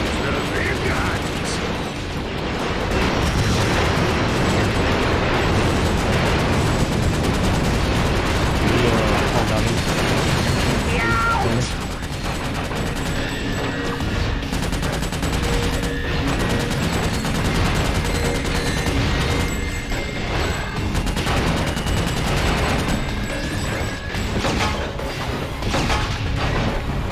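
Heavy weapons fire continuously in the video game Ratchet: Deadlocked, with dense overlapping blasts, booms and mechanical clatter layered under music and game effects.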